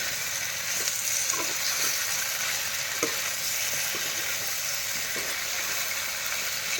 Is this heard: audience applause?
no